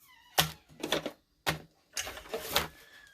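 Cardstock for a handmade card being cut on a paper trimmer in four or five separate crisp, scraping strokes with short pauses between them, close and fairly quiet.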